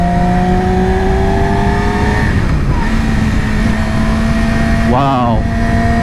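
2020 Yamaha R6 motorcycle engine on twisty mountain roads, a loud high-pitched whine holding steady, dipping off, then rising again with a short rev, under constant wind rush.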